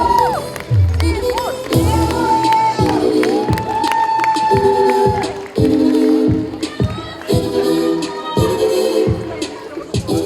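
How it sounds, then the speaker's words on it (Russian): A crowd cheers and claps loudly for the winner of a male university pageant, the Mister BSPU 2023 contest, with shouts and voices rising in bursts over tonal music throughout. "Громкие аплодисменты нашему победителю, конечно же."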